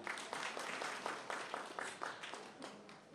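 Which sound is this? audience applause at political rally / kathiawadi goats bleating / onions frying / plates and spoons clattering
audience applause at political rally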